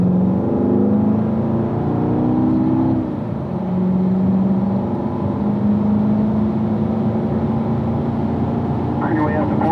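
Race car engine accelerating on a track, rising whining tones climbing through gear changes up to fourth gear, heard from the cockpit, loud and steady with a brief dip between shifts.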